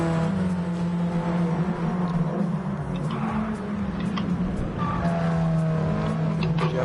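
Race cars in a GTCA championship race surge toward the first corner, engines roaring loud and close with rising revs, tyre squeal and cars sweeping past, as a commentator talks over the action.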